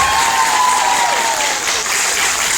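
Loud, dense applause from a crowd at an Ayurveda product training event, a continuous wash of clapping that holds steady and dips slightly near the end, with a faint tone gliding beneath.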